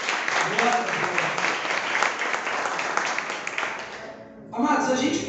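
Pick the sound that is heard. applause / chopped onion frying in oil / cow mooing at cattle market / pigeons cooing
applause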